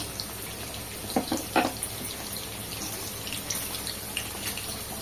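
Water is poured into a mutton ball masala curry, a short splashing pour with a couple of louder gushes over a low kitchen background, close by and without talk.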